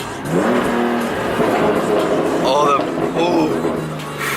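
A BMW car engine revs loudly and close, its pitch rising and falling in sweeps throughout while people talk over it.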